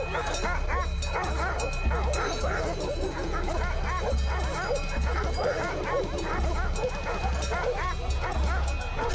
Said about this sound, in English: His bark echoes across the field